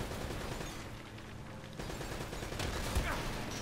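Machine gun fire from Uncharted: Drake's Fortune crackles in a dense, continuous rattle of rapid shots, fairly quiet and steady throughout, with a slightly sharper burst near the end.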